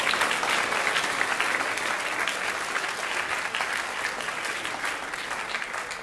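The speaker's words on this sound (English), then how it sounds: "So let's give them a round of applause." An audience at a school FFA awards assembly gives sustained applause, a dense, even clatter of many hands clapping at steady loudness from start to finish, with no talking over it.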